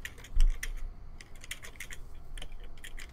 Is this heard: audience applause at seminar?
no